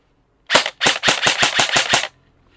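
A Kyrtac REC7 Barrett airsoft rifle fires on full auto in one loud, close burst of about eight rapid sharp shots, with nothing else around it.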